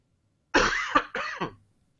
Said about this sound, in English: Sorry, I had to break to cough there.